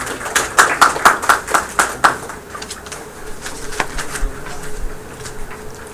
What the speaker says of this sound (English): let's welcome Amrinder with a round of applause